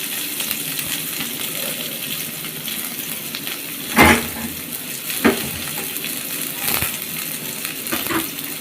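Chopped onion fries in oil in a pan with a steady, fairly loud sizzle, punctuated by a few sharp clinks and scrapes from stirring.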